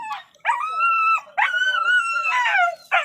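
A dog howls close by at a dog market in Kohat, Pakistan, in several drawn-out, wavering cries, broken by short gaps, with yips between them.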